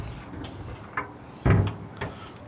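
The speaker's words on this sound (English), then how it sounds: "as soon as I close this door" A charcoal smoker's door swings shut with a solid thunk, preceded by a few lighter knocks and clanks of handling and followed by a smaller clatter, all close and fairly loud.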